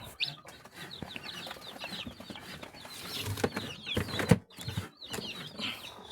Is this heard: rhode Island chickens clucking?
yes